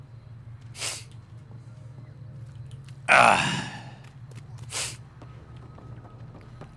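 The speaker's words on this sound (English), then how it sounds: "That was a big sneeze." A person with allergies lets out three sneezes: a short one, then a much louder, harsh burst, then a third, each separated by quiet room hum.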